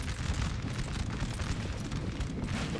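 Cannon artillery fires during a Napoleonic-era Total War battle. Dense, rumbling booms and bursts blend into a continuous, heavy low roar of gunfire.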